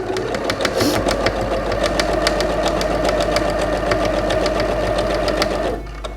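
A sewing machine runs a steady, close, continuous stitching rhythm for several seconds, sewing white thread through a white terry towel used as a kitchen cloth, then stops abruptly near the end.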